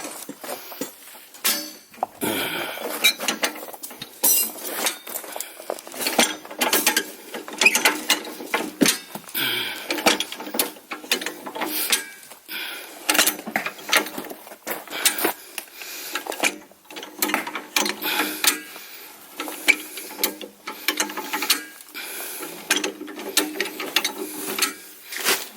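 A high lift jack is lowered by hand with a long run of uneven metallic ratchet clicks, loud and close, coming in bursts with short pauses and no talk.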